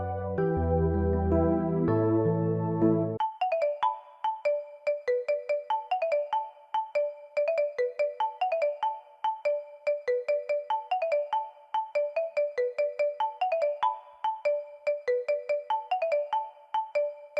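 A mobile phone ringtone rings loudly, with a brief melodic intro followed by a repeating electronic tone pattern that cycles steadily many times, clean and close with no talking.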